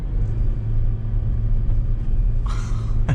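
2021 Jeep Wrangler 80th Anniversary Edition engine on kick down, a steady loud low rumble of the motor running throughout, with a brief brighter surge near the end.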